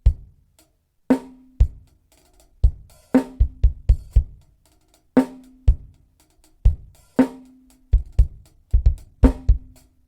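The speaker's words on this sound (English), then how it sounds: "the trap beat sounds something like this." A trap beat played on an acoustic drum kit, with deep kick hits, sharp snare cracks and ringing toms in a syncopated pattern separated by short silences. The drums are close and loud, with no talking.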